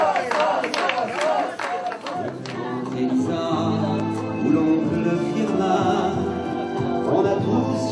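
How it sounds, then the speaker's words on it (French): An audience at an anniversary gala claps in a dense burst for roughly two seconds, then the applause gives way to music with singing. "Applaudissez-les s'il vous plaît."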